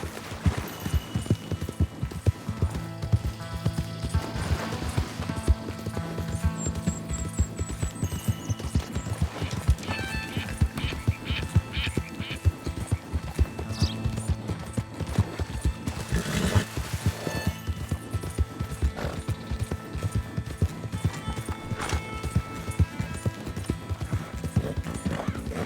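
A horse gallops in the video game Red Dead Redemption 2, a continuous rapid clip-clop of hooves with an occasional whinny and snort over a constant background game ambience, no talk.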